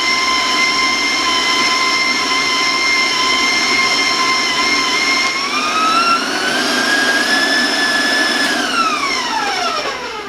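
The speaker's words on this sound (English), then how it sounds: "I'm going to do also in my mixer" An electric stand mixer beats white chocolate brownie batter, giving a loud, steady motor whine that holds constant, then rises in pitch partway through and falls away near the end as the speed changes.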